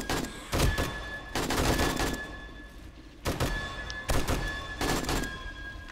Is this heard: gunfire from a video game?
yes